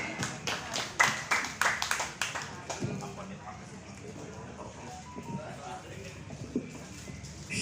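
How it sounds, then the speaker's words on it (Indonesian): An audience claps for Bang Haji Nur Ali at a Betawi political declaration rally, with a few seconds of distinct rhythmic claps that fade into crowd murmur and talking. "Tepuk tangan buat Bang Haji Nur Ali."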